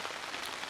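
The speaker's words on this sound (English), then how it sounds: "Still raining." Steady rain falling on a woodland solo camp, a soft continuous hiss of drops with no voices.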